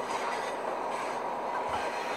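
A simulated train rolls along in Train and Rail Yard Simulator, an Amtrak Greenfield Zephyr running at speed, a steady broadband rushing rumble with no speech.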